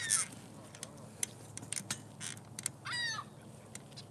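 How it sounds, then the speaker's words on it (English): A goose honks faintly in the distance outdoors, a few short calls rising over a low background hum, with no talking. "we got a goose friend in the background"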